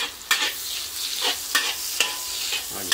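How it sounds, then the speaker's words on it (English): Chives, tau kwa and dried shrimp stir-fry in a wok with an ongoing sizzle, punctuated by four or five sharp spatula scrapes against the metal, while someone says a couple of words. "when you fry these two ingredients together, the flavor of the dried shrimp goes into the mushroom"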